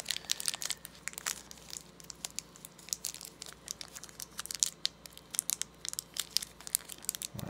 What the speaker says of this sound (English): I gotta start using scissors here because this plastic is mm-hmm. much more durable than other plastic